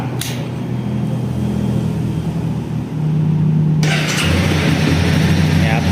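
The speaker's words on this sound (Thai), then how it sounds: "โอเคเดี๋ยวลองมาสตาร์ทกันดีกว่าครับ" A 2018 Honda CB300R motorcycle engine cranks and fires up, then settles into a loud, close, steady idle with a brief rev, while someone talks over it.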